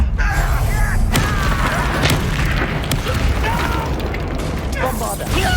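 Blasting-spell explosion in the Hogwarts Legacy video game, a loud boom and burst set within continuous game noise, with a voice talking over the action.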